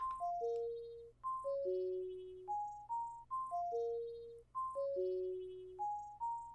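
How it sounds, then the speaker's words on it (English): A synth pluck pattern in FL Studio plays a reversed chord progression: bright, clean repeating pluck notes stepping down in short phrases over a steady low drone, loud and alone with no talking. "we're going to throw this weird pluck pattern in here that's going to sound like this."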